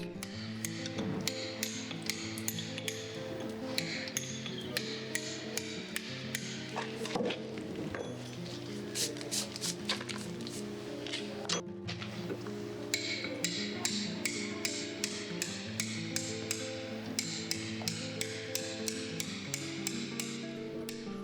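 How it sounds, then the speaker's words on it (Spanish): A toothed chisel, or gradina, is struck against stone to dress the surface flat. Dense, steady tapping and knocking hits repeat close by for the whole stretch, over a persistent tonal background hum. "Con la gradina o cincel dentado, eliminamos la rugosidad dejada por el puntero"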